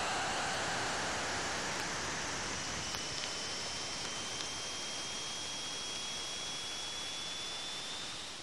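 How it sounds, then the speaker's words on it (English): Ring particles from Saturn's rings strike the Cassini spacecraft as it crosses the gap between the planet and the rings, a steady hiss of broadband static with faint whistling tones rising and falling throughout. "What you're hearing is ring particles striking the probe."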